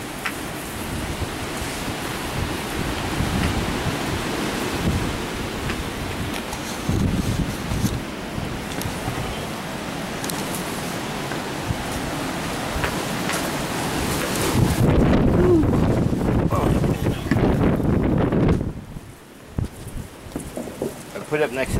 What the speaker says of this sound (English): this wind has been really like this for the last 2 days